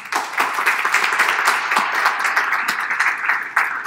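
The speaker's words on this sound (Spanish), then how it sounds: "gracias Pablo, les pido un fuerte aplauso para él." Applause from a medical conference audience on cardiovascular sonosemiology, a fairly close, lively round of clapping with uneven bursts and a slight swell near the end.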